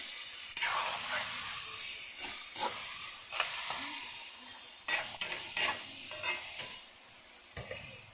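Chicken pieces sauté in a hot pan with a continuous loud sizzle, broken by scraping stirs and a few sharp spatters and clicks of the utensil against the pan.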